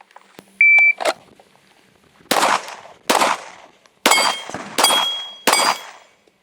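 Bullets striking AR550 steel targets at an outdoor shooting range, with a 9mm pistol firing full metal jacket rounds from 15 yards; six sharp, loud metallic clangs ring out at uneven intervals, each with a short ringing decay, and no talking.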